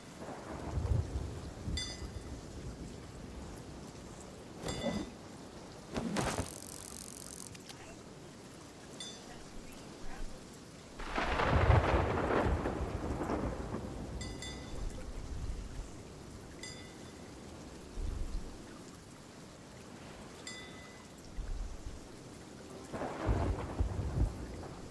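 A thunderstorm rumbles with several separate thunder rolls, one long heavy crash in the middle, over a steady bed of falling rain, moderately distant.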